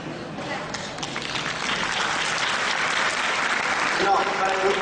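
Students at DAV Public School in Delhi applaud during a National Unity Day lecture. The clapping starts thin, swells within a second into a steady, dense round that carries to the end, and a voice briefly rises over it.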